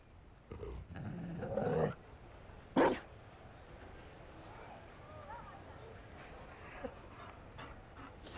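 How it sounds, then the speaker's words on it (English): Mabari war dog from Dragon Age: Inquisition panting and growling in a few short bursts near the start, then a fainter stretch of breathing and ambience, with voices speaking over parts of it. "Oh, you found a doggo!"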